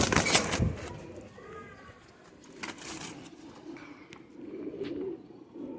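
Teddy Sialkoti pigeons offered for sale, heard cooing in low soft murmurs with a few wing flutters and sharper clicks, fairly close, with faint background voices.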